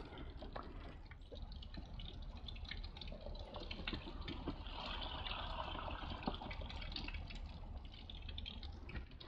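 Water runs and trickles steadily as leaf litter samples are washed through a sieve to separate out soil, a continuous splashing flow with faint dripping that swells slightly midway.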